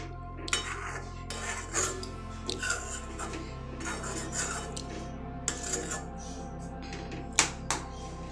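A spoon scrapes and knocks against a cooking pot while potato payesh is stirred with raisins on a gas stove, giving scattered clinks and rasping strokes over a low steady hum.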